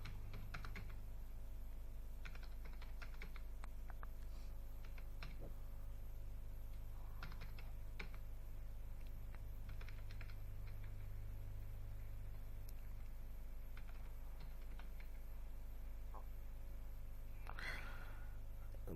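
Computer keyboard typing while entering overhead cost figures into an Excel sales summary report, with faint scattered key clicks in short bursts over a steady low hum and background noise.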